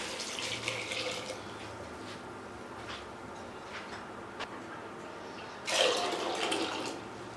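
Water poured from a vessel into a pot of about one kilo of washed falsa berries, a steady running splash throughout that swells into a louder, brighter gush near the end, with no talking.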